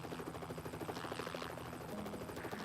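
Helicopter hovering beside live 230,000-volt power lines, its steady rotor and engine drone loud and continuous throughout, with no talking.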